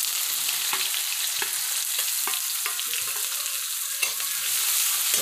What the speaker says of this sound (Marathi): कांदा तेलावरती चांगला परतून घ्यायचा.